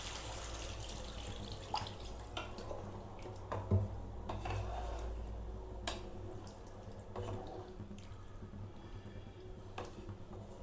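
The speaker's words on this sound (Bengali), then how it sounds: "জল দিয়ে দিয়েছি" Water is poured into a pan of cauliflower and potato curry with spices, a soft continuous trickle and slosh close by, with light clinks and sizzling in the background.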